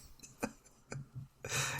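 A few short, sharp coughs and throat-clearing bursts, quiet and close, followed by a rough breathy rasp at the end.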